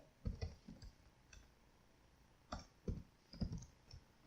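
A computer keyboard typing a web page title in bursts of soft, close clicks, separated by short pauses.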